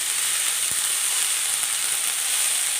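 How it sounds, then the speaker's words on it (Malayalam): Spinach and jackfruit seeds cooking in a pan, stirred together with no added water, give a loud, steady, close hiss of sizzling that runs unbroken throughout, with one faint low knock early on and no voices. "ഇനി ഒന്ന് ഇളക്കി കൊടുക്കാം"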